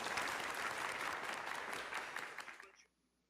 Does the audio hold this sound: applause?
yes